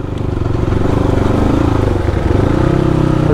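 A Hero Xpulse motorcycle climbing uphill, its engine a loud, close, steady throbbing drone under load that holds on throughout with no clear talking.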